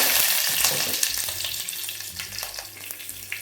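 Curry leaves and asafoetida crackle in hot oil for a moong dal tempering, a loud, bright sizzle close up with scattered pops and spoon clinks, gradually settling.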